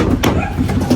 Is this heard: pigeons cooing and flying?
yes